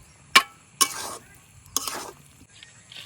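Stirring of pumpkin and egg curry in a wok, heard as a few separate scraping, clinking strokes at close range against a soft background sizzle.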